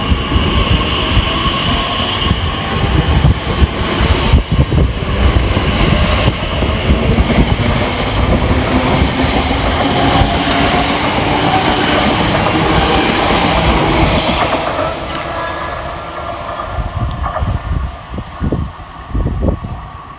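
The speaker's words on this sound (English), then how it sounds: "And now arriving into the station is the 11:41 Elizabeth Line service from Shenfield through to London Paddington" An Elizabeth Line train on the Great Eastern Main Line runs into a station with a steady loud rumble and wheel clatter over the rails, gradually slowing and quietening toward the end.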